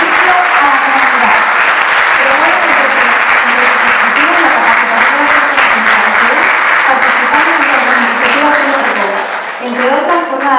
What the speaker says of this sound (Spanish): Fuertísimo el aplauso, por favor.